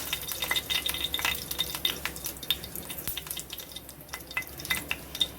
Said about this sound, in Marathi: आणि आता आपण फोडणीची तयारी करतोय मस्त मोहरी घालायची आपल्याला त्यानंतर आपल्याला कढीपत्ता घालायचा आहे